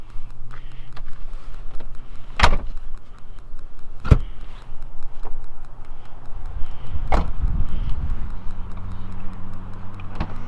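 Rear seats of a 2006-2011 Mercedes ML550 folding down in a 60-40 split, giving a few sharp clunks and thuds spaced seconds apart over a steady low hum.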